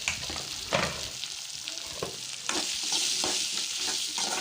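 Chopped tomatoes sautéing with onions and salt in a pan for quick lentil-free idli sambar, a steady sizzle with scraping spoon strokes, close and continuous, the frying growing louder partway through.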